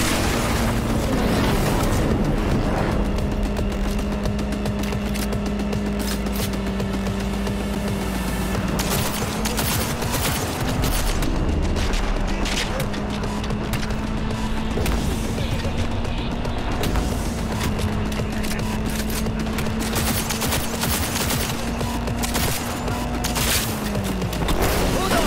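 Rapid bursts of gunfire from Cyberpunk 2077, played on PC, crackle continuously over a steady droning tone and dense game noise, with louder volleys scattered throughout.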